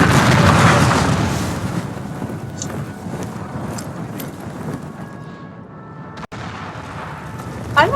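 Cannon artillery booms roll through a video game battle involving cavalry, a dense, continuous barrage of blasts and rumbling over a noisy battlefield din, loud throughout with one brief dropout.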